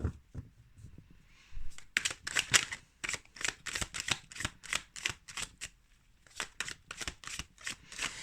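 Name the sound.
shuffling a deck of cards for a reading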